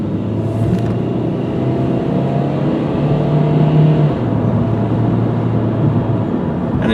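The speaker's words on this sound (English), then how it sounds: "as you just saw, shifted through all the gears beautifully" A 2001 VW Jetta driving on the street, its engine loud and close, rising and dropping in pitch as it shifts up through the gears.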